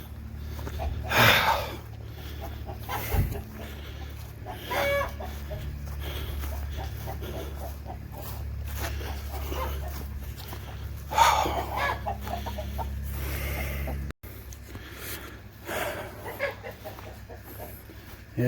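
Agitated chickens cluck and squawk repeatedly while being herded, with bursts of louder calls over a steady low background rumble, close by and busy throughout.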